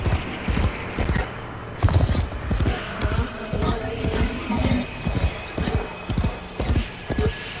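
Rhythmic clip-clop of horse hooves galloping steadily in the video game Warframe, fairly close and loud, with a brief whinny near the start.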